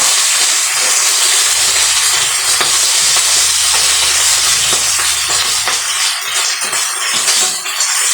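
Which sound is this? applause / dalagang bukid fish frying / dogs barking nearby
dalagang bukid fish frying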